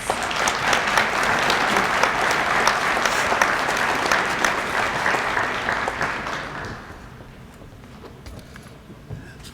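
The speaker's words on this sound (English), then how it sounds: "Let's now please give them all a round of applause." Audience applause at an athletic hall of fame induction ceremony, full and sustained for about six seconds before thinning out to scattered claps and room noise.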